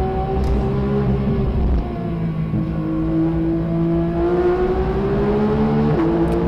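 A Porsche 992 GT3 on a rally stage revs hard and loud, its engine note dropping and climbing as the driver shifts up and down between second and third gear.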